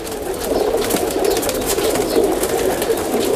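Breeder pigeons coo softly in a low, continuous murmur from several birds close by, with no talk over them.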